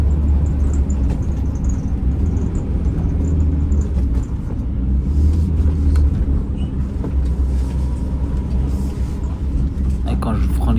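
A camper van's engine rumbles and strains as it accelerates up a steep slope, a heavy continuous drone with voices talking over it.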